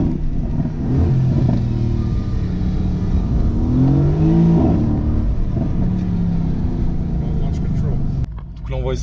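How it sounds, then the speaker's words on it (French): A Mercedes-AMG GT S held in launch control gives a loud, steady engine roar at raised revs, swelling briefly mid-way and cutting off near the end, with voices talking over it. "Donc là on voit ici un launch control."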